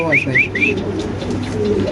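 A pigeon coos close by, a soft run of repeated rolling notes, while a person talks quietly underneath.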